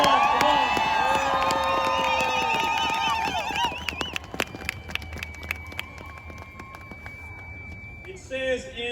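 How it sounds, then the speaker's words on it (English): Rally crowd at a Defeat the Mandate rally in Washington DC cheering loudly, with shouts and whistles over a dense roar that thins into scattered claps and calls, voices mixed throughout. "Give yourselves another round of applause."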